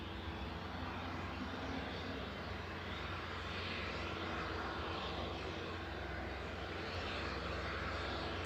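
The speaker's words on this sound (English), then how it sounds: "Noise in the foreground there is just the JCB helicopter starting up" JCB helicopter starting up in the foreground at East Midlands Airport, a continuous broad engine roar and whine that holds steady and fairly faint throughout, with no talk.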